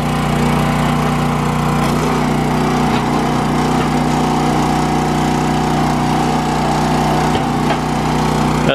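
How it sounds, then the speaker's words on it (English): A small gasoline engine on a Tractor Supply log splitter runs steadily at a constant loud drone, close by and alone, with no break in its rhythm. "one of those splitters from Tractor Supply."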